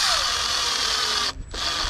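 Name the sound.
drill driving a screw into a pergola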